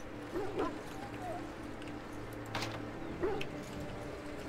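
Hounds sick from darkspawn blood in the video game Dragon Age Origins give faint barks, yips and whimpers. The short scattered calls sit under game ambience and voiced dialogue.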